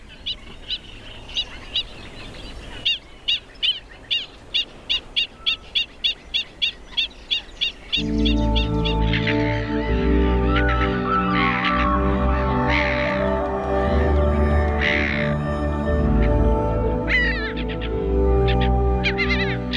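Black-winged stilts calling loudly around their nests beside an Italian river: a rapid series of sharp, evenly spaced yelping notes at first, then more scattered calls over a dense, loud wash of background sound.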